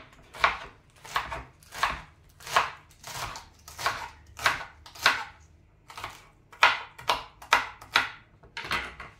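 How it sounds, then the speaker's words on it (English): Knife chopping through rolled-up garden spinach leaves on a board, a steady run of about fifteen crisp, close thuds at a brisk, slightly uneven rhythm with no talking. "roll them up like that, and just give them a chop"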